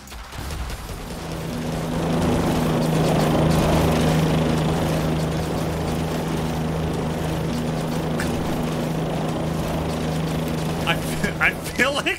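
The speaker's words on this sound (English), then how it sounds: "They went outside and they recorded a lawnmower." A helicopter strike effect in the zombie survival game Yet Another Zombie Survivors, sounding like a lawnmower: a steady, droning motor hum runs loud and continuous throughout, with a brief clatter near the end.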